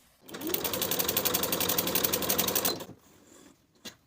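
A sewing machine runs a long straight stitch through coat fabric, a fast, even mechanical chatter lasting a few seconds before stopping, close and fairly loud, followed by a faint click.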